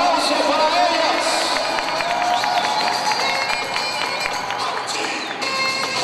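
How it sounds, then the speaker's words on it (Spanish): A crowd at a fitness competition awards ceremony cheers and applauds the winners, with loud sustained clapping, whoops and shouts blending into a continuous roar. "Aplauso para ellas."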